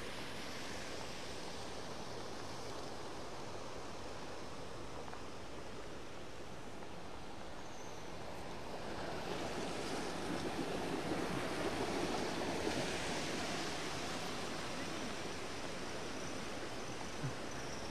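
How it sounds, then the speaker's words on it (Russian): Sea waves wash onto a summer shore in a steady broadband roar, growing louder and fuller about halfway through, with no voices. "А вот и море началось летнее."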